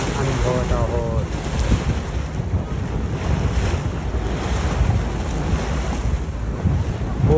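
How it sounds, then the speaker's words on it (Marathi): Wind and churning water rush steadily past a tour boat riding the Rhine waves near Rhine Falls, Switzerland, with faint voices under the loud continuous roar. "वर खाली होणाऱ्या या घटिका म्हणजेच लाटा अनुभवत आहोत"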